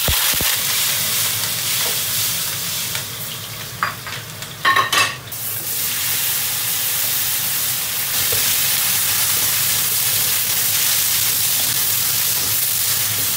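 Pickled ginger and garlic hit hot oil in a wok, giving a loud continuous hiss and sizzle, with a sharp burst of clatter and stirring partway through before the steady frying resumes.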